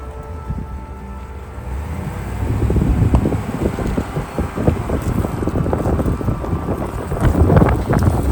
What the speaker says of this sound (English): It's like a southeast crosswind right now.